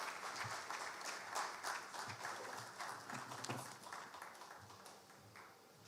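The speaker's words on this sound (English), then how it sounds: "please help me welcome, with a big round of applause" Faint, moderately dense applause from an audience at a formal Ghanaian gathering, tapering off slightly toward the end.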